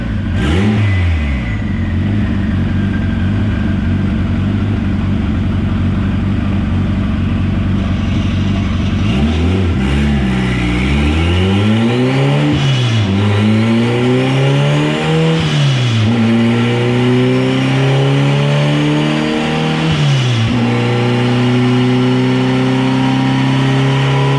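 Turbocharged all-wheel-drive Acura Integra running a track pass, its loud engine climbing through repeated rising sweeps with brief dips at each gear change, close and sustained with no talk.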